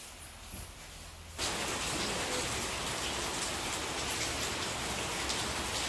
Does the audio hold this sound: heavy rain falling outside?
yes